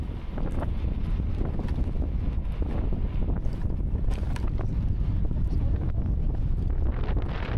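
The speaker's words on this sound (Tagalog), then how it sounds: "super lakas din ang hangin." Loud, steady wind buffeting the microphone, a constant broadband roar with gusty surges throughout and no clear pauses.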